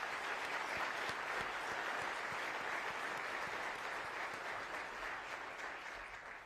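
A large audience at the 2024 State of Milwaukee County address applauds with dense, steady clapping that stays full for several seconds, then slowly tapers off near the end.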